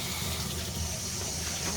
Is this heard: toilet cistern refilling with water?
yes